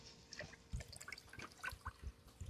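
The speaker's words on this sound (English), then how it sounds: "every time you incorporate anything, give it a little stir" Brine water with cloves being stirred in a pot for smoking mullet, giving quiet irregular sloshing and small splashes with occasional soft knocks, fairly close and without talk.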